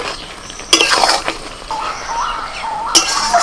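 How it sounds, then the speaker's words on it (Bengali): Fried eggs being mixed into egg chili gravy in a pan, with a few sharp utensil clinks against the pan standing out over a soft, steady background of scraping and stirring. "এবার ভাজা ডিমগুলো দিয়ে ভালো করে মিশিয়ে নেব।"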